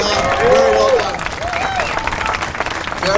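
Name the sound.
crowd applauding at Miller Motorsports Park race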